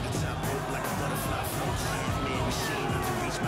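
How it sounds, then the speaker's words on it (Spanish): A large crowd at a boxing match roars and cheers continuously, loud and dense, with shouts and whoops mixed into the sustained noise. "Esta debe ser la primera pelea en que Bouchard recibe menos aplausos que su retador"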